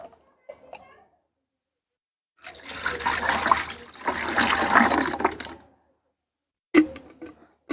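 Water is poured into a container of fermented fruit-peel compost made from mango, orange, lemon, banana and apple skins, splashing and gurgling in two close bursts of a few seconds each, with brief knocks around them.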